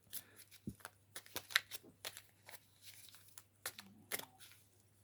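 Crinkly rustling of a plastic bag, coming in irregular bursts of crackles and crumples, close up with no one talking.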